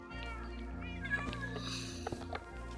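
A cat in Minecraft meows several times at close range over steady tonal background sounds.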